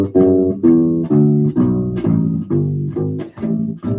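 A bass line played on a U-Bass, a short-scale ukulele bass, in a steady run of plucked, sustained low notes that change every half second or so, close and full with no talking.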